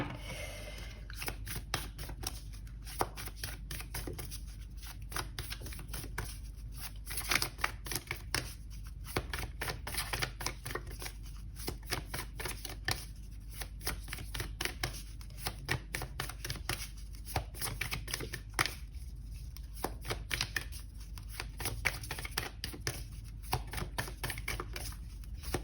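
Moonology oracle cards being shuffled by hand, a continuous run of close, crisp riffling and flicking taps, slightly uneven in rhythm, with no talk.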